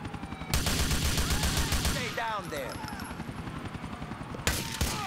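Bursts of automatic gunfire aimed at the player in Grand Theft Auto IV, loud and rapid at first, then continuing under wailing sirens and street noise, with another sharp burst near the end.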